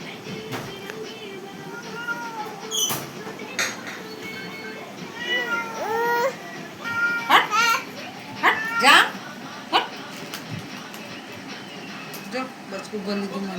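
A cat meows repeatedly at close range, a string of short rising and falling cries, while children chatter and talk around it.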